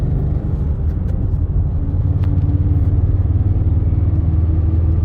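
A high-mileage BMW E39 M5 with a Dinan S1 engine drones loudly while driving, its steady low rumble roughening and faltering as the engine misfires, with no talking over it.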